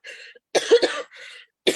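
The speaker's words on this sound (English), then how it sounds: "So I'm still coughing a little bit." A woman getting over a cold gives a few close, dry coughs in short bursts, with one throat-clearing rasp in between.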